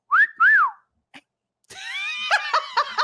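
A person whistles two rising-and-falling notes, then after a pause a longer, warbling whistled phrase with several pitch shifts, close and clear.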